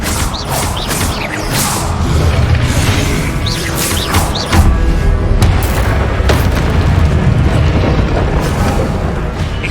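Expelliarmus spell impacts in Hogwarts Legacy combat, a series of loud booming cracks and crashes layered over constant, busy battle noise with no clear talking.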